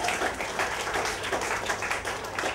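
Audience applause welcoming a comedian at a stand-up show, dense steady clapping from a crowd filling the whole stretch at a fairly even level.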